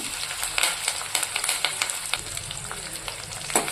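Onions, green chilies and curry leaves sizzle steadily in hot oil in a pan, a close, continuous crackling frying sound with light stirring.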